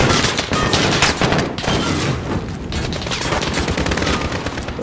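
Dense, continuous automatic gunfire from Call of Duty Modern Warfare, with rapid overlapping shots and a fusillade that stays loud and close throughout, and no voices.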